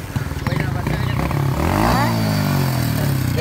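A motorcycle engine runs steadily and loudly throughout, rising slightly in pitch midway, during a road trip toward Larkana, with someone talking over it.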